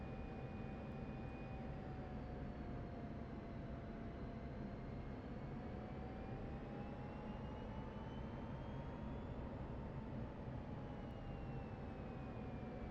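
An F-16C jet on final approach to landing in the DCS flight simulator, a steady loud engine roar with a smoothly wavering whine held throughout, no talk.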